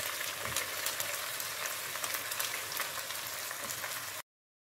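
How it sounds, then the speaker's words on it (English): Parboiled rice stirred into salted onions frying in a pan, a steady, fairly quiet crackling sizzle with scraping stirs that stops abruptly. "Now I'll bring in the parboiled rice."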